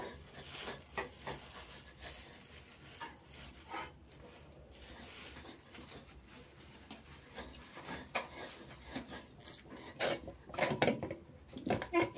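A metal spatula scrapes and stirs sweet sugar naru mixture in an unheated pan, giving steady close scratching and tapping, with louder clattering toward the end.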